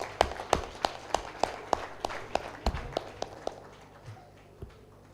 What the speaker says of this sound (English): one more hand clap for our fantastic panelists